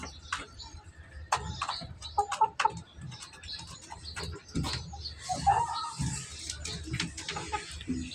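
Caged chickens kept in a home in flood-hit Dhaka give scattered, fairly close bird calls and rustles over a low, steady background hum.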